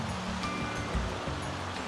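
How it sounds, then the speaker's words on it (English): Wild and scenic Salmon River flowing past an old-growth forest trail, a steady rushing wash of water close by with no voices. "This is the wild and scenic Salmon River."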